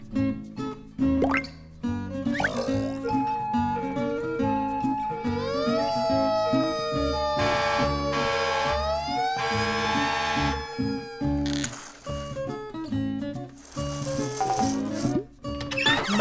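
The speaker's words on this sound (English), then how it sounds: "Fire truck." A fire truck siren sounds in long upward glides for a few seconds, partly covered by busy children's music and rattling effects.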